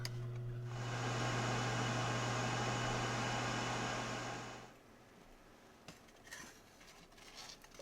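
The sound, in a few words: air fryer cooking fish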